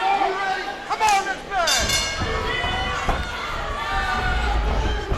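Arena crowd at a caged MMA main event roaring and cheering, a dense, loud mass of shouts and whistles with rising yells, and an announcer talking over the noise.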